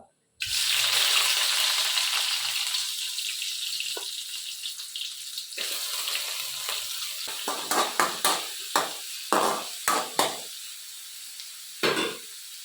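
Chopped ginger, garlic and onion hit hot oil in a pan with a loud, steady sizzle that settles into a softer hiss, followed by a run of sharp scraping stirs toward the end.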